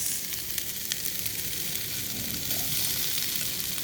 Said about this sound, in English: Oh, did you hear that? That sizzle.